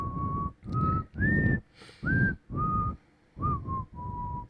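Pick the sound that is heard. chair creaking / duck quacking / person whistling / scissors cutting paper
person whistling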